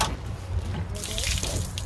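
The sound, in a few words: gray water draining out of a truck camper tank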